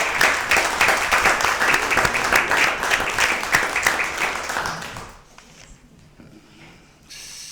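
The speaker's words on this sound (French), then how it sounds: "ça mérite des applaudissements" A room full of people at a municipal council meeting claps steadily for about five seconds, then the applause fades out, leaving quiet murmuring room sound.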